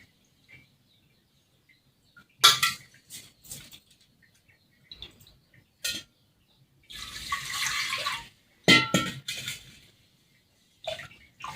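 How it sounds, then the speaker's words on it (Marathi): Water is poured in short bursts over finger millet grains being washed for nagli papad, with splashy pours separated by quiet pauses, close by with no talk. "आता अशा प्रकारे नागे काढायची आता पाणी टाकून टाकून"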